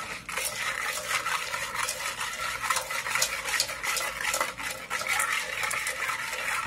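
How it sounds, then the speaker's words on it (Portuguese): A spoon scrapes and swirls steadily around a pot, stirring a sugar mixture for sweet popcorn, making a continuous gritty stirring sound with no talking. "agora é só mexer, né?"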